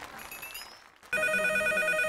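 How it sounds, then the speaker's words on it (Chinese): On a televised dating show stage, a telephone rings for an incoming call, its bright, steady electronic ring starting abruptly after a short stretch of quieter room sound. "让王挺接一下电话"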